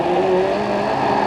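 A 1989 British Touring Car Championship touring car driven by Guy Edwards spins at the chicane, heard from inside the car: a loud, steady engine roar blended with tyre noise, close and continuous, with no talking.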